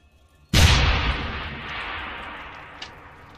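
A single grenade blast in the video game Deus Ex: Human Revolution, a sudden loud boom with a long rumbling decay and a small pop near the end.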